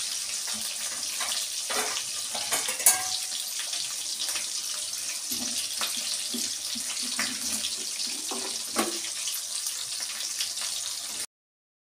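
Onions frying in a pan for a brinjal fry, giving a steady, even hiss with scattered small pops and a few faint clinks, close and continuous with no voices.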